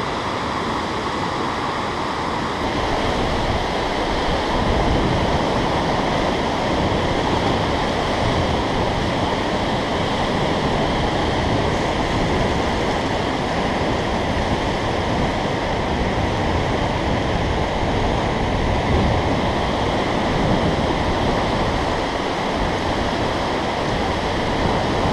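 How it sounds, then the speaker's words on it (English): Granite Rapids on the Colorado River in the Grand Canyon roar as a continuous, loud wash of churning whitewater, steady and unbroken throughout with no voices. "Granite Rapids on the Grand Canyon down here on the Colorado River"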